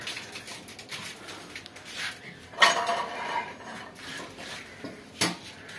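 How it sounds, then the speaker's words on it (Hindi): Stacked metal utensils and plates tumble in a village home, with a run of clinks and clatters followed by a few sharper crashes as more items fall, close by and with no talk. "मुझे पता था ना ये जो गिर जाएगा वो सारा नीचे ले आएगा सामान।"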